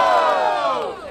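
A rap battle crowd at Batalha da Aldeia roars and cheers for the rapper Salvagão, loud sustained shouting voices that fade slightly toward the end.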